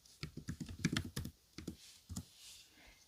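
Fingers type on a computer keyboard up close, a quick burst of clicking keystrokes, then a brief pause and a few more taps.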